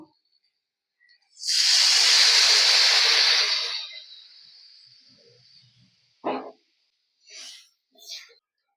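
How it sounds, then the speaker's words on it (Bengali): Water poured into a hot pan of katla fish curry with gathi kochu (taro) spices, a loud sudden hiss lasting about two seconds that fades into quieter sizzling, followed by a few short clattering kitchen sounds. "এবার আমি জল দিয়ে দেবো।"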